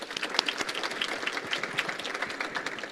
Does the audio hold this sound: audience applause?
yes